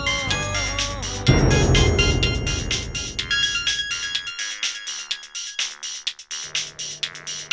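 A mobile phone ringtone plays a loud, looping electronic melody in bright repeating tones, running steadily without any talk.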